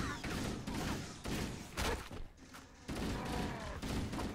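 An assault rifle fires on full auto in Halo: Combat Evolved Anniversary, with dense, sustained bursts of gunfire broken by short pauses and close, loud game effects.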